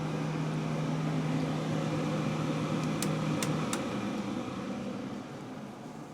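An air scrubber fan runs in a garage 3D print farm, giving a steady, close, continuous whooshing drone with a low hum and a few brief faint clicks, with no talk over it.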